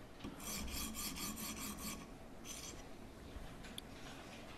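A knife is sharpened with a stone on a TSPROF K03 Pro sharpener, giving a run of rapid rasping strokes followed by a few slower scrapes, close and fairly quiet with no voices.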